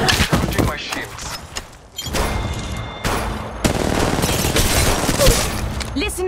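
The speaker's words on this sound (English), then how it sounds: "I'm spotted, taking fire." Rapid gunfire bursts in the mobile battle royale Apex Legends Mobile, with dense overlapping shots and impacts that sound close and loud, running almost continuously with a short lull near the two-second mark.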